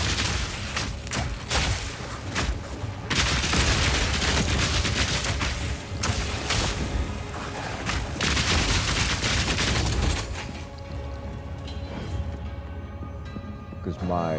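Grenade blasts and gunfire-like bursts from the action game Path of Exile 2 go off in dense, loud, continuous volleys for most of the stretch, easing slightly near the end, with a voice talking over the combat.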